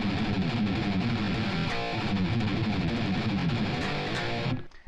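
Main riff on distorted electric guitar in E standard, a dense, fast chugging and palm-muted pattern played loud and continuous, then abruptly cut off near the end.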